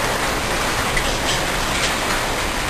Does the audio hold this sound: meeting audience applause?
no